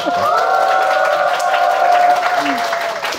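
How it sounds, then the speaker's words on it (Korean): Large studio audience applauding during a live real-estate investment broadcast, a sustained wash of clapping mixed with light cheering and crowd voices throughout. "우리 쿵쿵나리님께 큰 박수 한번 부탁드리겠습니다."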